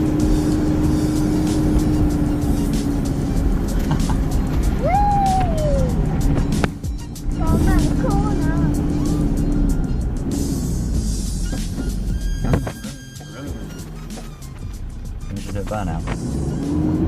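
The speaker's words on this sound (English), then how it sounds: "Burnout." Car engine revving hard with tyre spin during a burnout, loud and sustained with a rising whine, under overlapping voices talking throughout.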